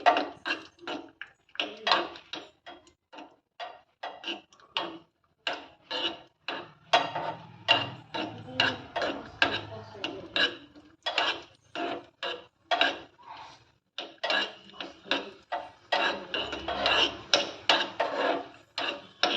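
Small cut cashew pieces frying in ghee in a pan: a steady run of dense crackling, sizzling bursts with a rough scraping texture, close and moderately quiet, continuing without talk.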